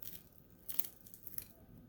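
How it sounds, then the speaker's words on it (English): Crispy deep-fried French fries give a few soft crunches, faint and close, with the sharpest bites around the middle of a short quiet stretch. "To get that crispy crunch"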